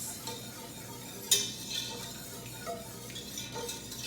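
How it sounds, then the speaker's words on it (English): Whisking béchamel sauce in a pan for mac and cheese: a soft, steady scraping stir with faint clinks of the whisk against the pan, one brighter tap partway through, and no talking. "we just want to make sure it's completely mixed together"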